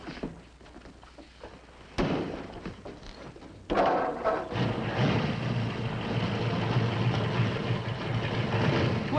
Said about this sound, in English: Start up the motor and let him listen to it.